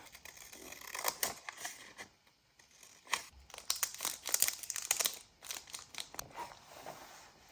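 Paper is torn by hand for a junk journal, with close crinkling and ripping bursts in an uneven rhythm, quiet and with no voices.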